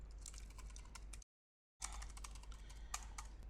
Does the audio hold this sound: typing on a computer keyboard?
yes